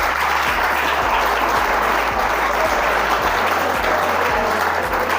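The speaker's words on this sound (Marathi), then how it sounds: "नुसत्या टाळ्या वाजवणार ऐका." Steady, dense audience applause at a rural-development talk held during a college NSS camp, loud and continuous from start to finish with no speech over it.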